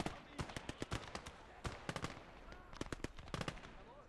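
Grenades and gunfire from the WWII game Gates of Hell, a rapid string of sharp cracks and bursts at uneven intervals, some clustered, over a faint background of battle.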